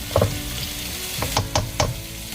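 Kaldereta sizzles in a frying pan as a spoon stirs it, with a few scraping strokes against the pan over a steady low fry.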